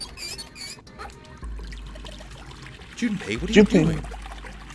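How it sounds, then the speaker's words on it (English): Water runs from a faucet in the video game Nine Hours, Nine Persons, Nine Doors, a soft continuous pour that grows louder and splashier near the end while a character speaks over it. "I'm running the water."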